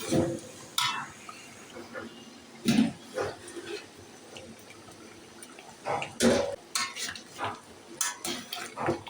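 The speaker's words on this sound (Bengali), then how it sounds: "এখন নেড়ে চেড়ে এগুলোকে এবার নাড়াচাড়া করে দিচ্ছি।" Chicken pieces being stirred as they fry in a pan for biryani: bursts of scraping and clattering of a spoon against the pan over a soft sizzle, close and intermittent, with no talk.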